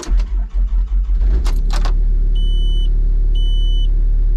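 Mini excavator diesel engine turned over with the key, a few seconds of loud chugging cranking and clicks before it catches and settles into a steady, close idling rumble with brief beeps.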